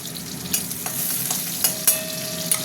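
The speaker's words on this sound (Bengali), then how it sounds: "পেঁয়াজটা একটু ভাজা ভাজা হোক।" Onions fry in hot oil in a pan, a steady soft sizzle broken by several sharp scrapes and clinks of a stirring utensil, close up and without any voices.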